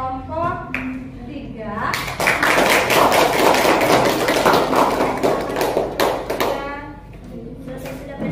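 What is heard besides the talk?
audience applause for a presenting group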